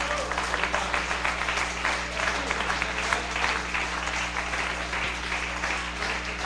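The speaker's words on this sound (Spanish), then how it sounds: "Denle un aplauso al Señor" A church congregation applauds in a dense, continuous stream of many hands clapping, steady and fairly loud throughout over a low electrical hum.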